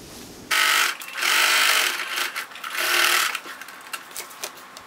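A sewing machine double-stitches along a folded fabric edge in loud, close bursts of high-pitched whirring, speeding up and slowing between runs, with small clicks as the machine pauses.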